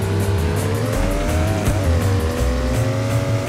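A race car in a Roblox time-attack run on the Gunsai track understeers, its engine droning loud and steady while the tires squeal continuously through the corner.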